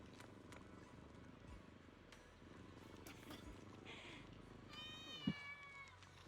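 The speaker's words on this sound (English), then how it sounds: "I heard a meow." A faint cat meow rises near the end of a Zenless Zone Zero game scene, preceded by soft purring and a layered ambient background with light footsteps, the meow brief and distant.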